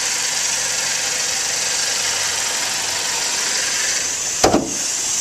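A 1.6-liter four-cylinder engine in a damaged 2009 Hyundai Accent idles steadily and close by, a continuous even drone with a brief louder bump near the end.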